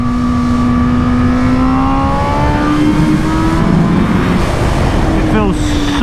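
2020 Honda Fireblade SP sport motorcycle being ridden, its engine a steady loud drone with a shifting pitch that rises and changes under constant wind noise, heard throughout.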